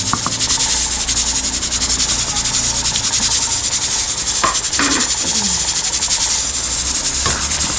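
Green chili hitting a hot frying pan gives a loud, steady sizzle that fills the whole stretch, with faint clinks and scrapes now and then.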